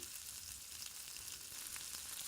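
Curry leaves and garlic sautéing in a pan for Kongu-style arisi paruppu saatham, giving a continuous faint hissing sizzle that stays even and steady throughout.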